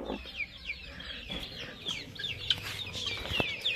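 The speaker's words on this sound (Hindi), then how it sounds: "ये देखें दोस्तों हमारी मुर्गी जो अंडों पे बैठी हुई है ना" A hen sitting on a clutch of eggs gives soft, repeated clucks and murmurs, fairly quiet and close, with faint chirping and light rustling around her.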